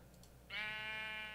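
A Minecraft sheep gives a single loud, harmonic bleat after being punched, starting partway in and holding steady close-up over a faint background.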